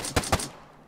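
A bipod-mounted machine gun in ARMA 3 fires two quick, sharp shots in close succession, each a loud crack trailing into a short fading echo.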